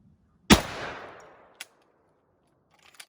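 A Dickinson/Ermox XXPA Hybrid 12 gauge shotgun loaded with 2 3/4-inch shells fires one loud close shot with a long decaying echo, then sharp mechanical clicks and clacks from the action.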